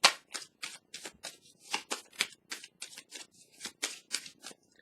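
Tarot cards being shuffled by hand in steady riffling bursts, about a dozen crisp papery slaps in a regular rhythm, close and fairly quiet with no voices.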